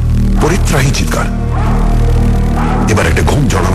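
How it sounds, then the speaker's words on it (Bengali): A dog barks and howls, loud and close, as a sound effect in a Bengali radio suspense drama, with voices running over it throughout. "কুকুরটা ডাকছে, পরিত্রাহী চিৎকার।"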